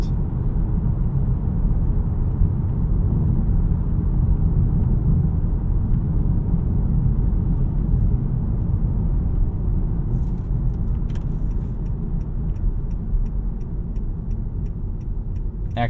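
Loud, steady low road roar fills the cabin of a Honda Accord 2.0T Sport while driving, a constant rumble with faint ticking clicks near the end.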